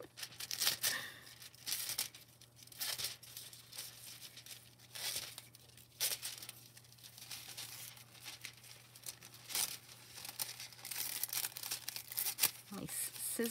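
Scissors cutting through foil: repeated crinkling and tearing snips in irregular bursts, close up, with a steady low hum underneath.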